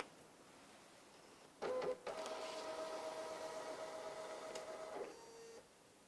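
A card printer printing a ballot card gives a brief loud mechanical clunk as the card feeds, then a steady whirring print pass lasting about three seconds, a softer trailing hum, and a stop, close up and with no talking.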